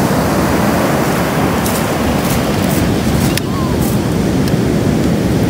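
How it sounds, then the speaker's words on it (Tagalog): Strong sea waves crash against a rocky shore in a steady, loud roar, with wind buffeting the microphone throughout. "Yun ang Tsunami na eh. Grabe. Napakalakas."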